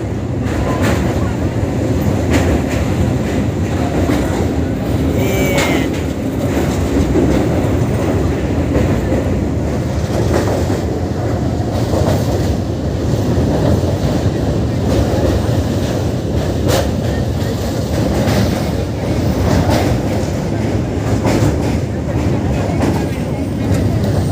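Train running on tracks on a journey toward Bolpur, a loud continuous rumble with rhythmic clickety-clack and periodic metallic clanks, heard from inside the carriage for the whole stretch.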